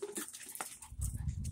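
A young puppy, about two or three months old, gives soft, brief whimpers and snuffles close by, faint and intermittent in a quiet outdoor setting.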